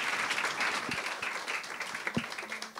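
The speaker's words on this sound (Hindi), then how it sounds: "ताली बजा कर उन्हें फिर से स्वागत." A Sunday worship congregation in a Delhi church applauds to welcome a visiting pastor from New Zealand, steady many-handed clapping that thins out toward the end with a few louder single claps.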